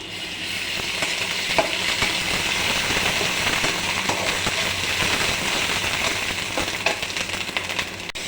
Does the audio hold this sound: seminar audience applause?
no